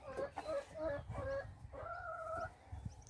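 Chickens kept in a small backyard coop cluck in short repeated bursts, followed by a longer drawn-out call, close by and fairly quiet with no talk.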